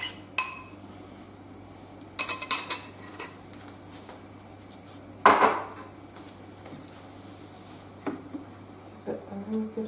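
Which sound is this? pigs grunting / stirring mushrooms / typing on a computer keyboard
stirring mushrooms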